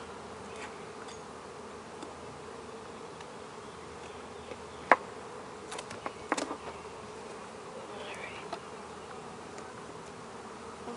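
Honey bees buzz in a steady, dense drone during a hive inspection, with a few faint clicks and knocks of frames and equipment, and no voices.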